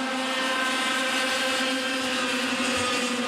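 A Yamaha junior racing kart engine heard onboard during a CIK final gives a steady, loud, high-pitched buzzing drone that holds throughout with no talk.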